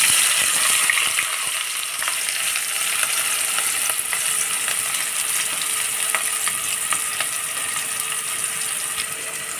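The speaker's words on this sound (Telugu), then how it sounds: "ఇప్పుడు మనం ఇందులో ఆనియన్స్ యాడ్ చేసుకున్నాము కదా, ఒకసారి కలిపేసుకుని ఇందులో కొంచెం ఉప్పు యాడ్ చేసుకుని ఫ్రై చేద్దామండి" Chopped onions frying in hot oil for a South Indian fish curry, a steady dense sizzle with scattered crackles and faint stirring clicks, loud and continuous throughout with no talking.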